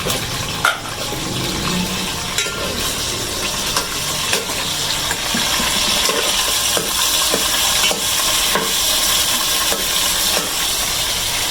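Chicken sizzles steadily in a pan during a Punjabi chana dal chicken recipe, with a continuous frying hiss and periodic scrapes and clinks as it is stirred, loud and close with no talking.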